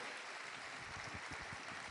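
Congregation applauding in a church service, a steady wash of clapping filling the room throughout, with no one speaking over it.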